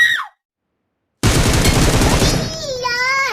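Automatic gunfire in the mobile video game BGMI, a dense rapid burst of shots after a short silence, loud and close, ending with a ringing electronic tone.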